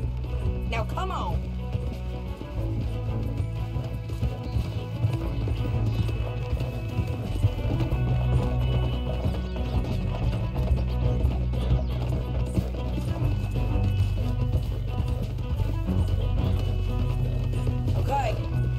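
Hooves clip-clop in a steady galloping rhythm in the video game Red Dead Redemption 2, over a low droning backdrop, continuous and moderately loud throughout.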